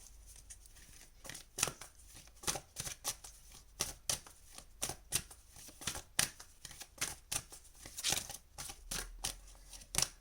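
Tarot cards being shuffled by hand, a steady series of soft, crisp riffling flicks and slaps at close range over a quiet room hiss, continuing throughout with no talk.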